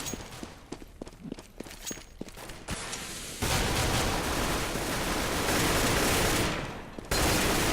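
Gunfire in a Counter-Strike European Championship match between Sweden and Finland: scattered sharp shots early, then dense, continuous bursts and a wash of battle noise filling most of the round, loud and without talk.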